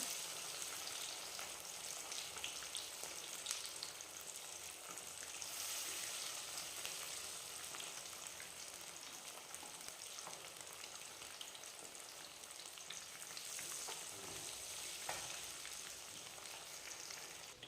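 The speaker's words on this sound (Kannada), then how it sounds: "ಒಂದು ಬಾಣಲೆಯಲ್ಲಿ ಎಣ್ಣೆ ಬಿಸಿ ಮಾಡಿಕೊಂಡು ಒಂದೊಂದೇ ಪೀಸಸ್ನ ಈ ಥರ ಎಣ್ಣೆಗೆ ಹಾಕ್ಕೋಬೇಕು" Fish kebab pieces fry in hot oil in a pan, a continuous close sizzle and crackle that holds steady throughout with no talking.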